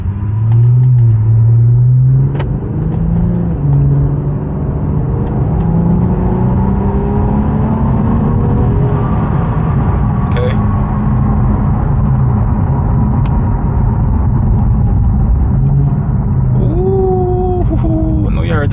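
Infiniti Q50 with a new motor, new turbos and a JB4 tune, driven in sport mode: a loud, close engine rumble that rises and falls as the car accelerates and shifts, fairly quiet and smooth, with a voice talking over it.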